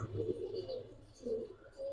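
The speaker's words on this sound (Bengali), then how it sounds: "সিলভার বেজি কবুতর" A silver bezi giribaz high-flyer pigeon gives two low, soft coos close by, with a quiet pause between them.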